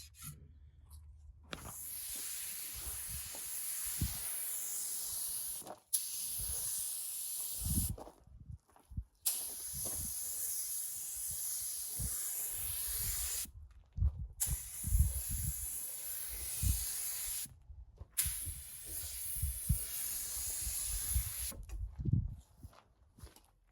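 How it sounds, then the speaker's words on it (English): A spray gun sprays lacquer onto wood in repeated bursts of steady, hissing spray that start and stop several times, each lasting a few seconds, with short quiet gaps and light handling noises between. "I can get the gun to shoot a spray pattern right in here"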